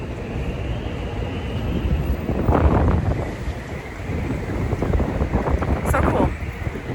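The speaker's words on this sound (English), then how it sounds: "So cool, but it's so windy." Strong, cold wind gusts buffet the microphone outdoors at Hudson Yards in New York, a continuous roaring rush that surges louder in waves every few seconds.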